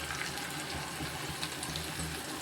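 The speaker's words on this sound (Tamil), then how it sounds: "இப்போ நம்ம அரைச்சி வச்சுருக்கிற விழுதை ஊற்றிக்கிடுவோம்." Thick paste of ground cashew, onion, tomato, cinnamon and clove pouring into a pan for paneer masala, a steady wet gushing and sizzling wash close by, with no talk.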